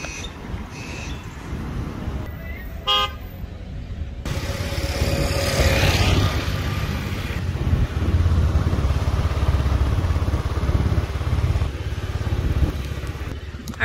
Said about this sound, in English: I'm chill on my little scooter